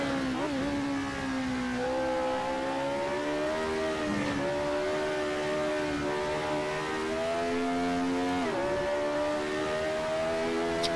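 McLaren M23 race car at full throttle on the Nordschleife in Assetto Corsa, its engine note climbing through repeated upshifts with brief dips between gears, loud and continuous with no talking.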